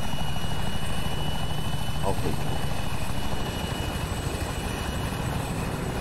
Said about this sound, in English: see that chopper coming in?